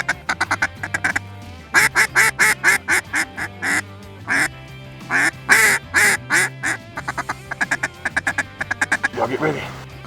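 Mallard ducks quack in a rapid run of loud, close, chattering bursts that come in clusters with short gaps between them.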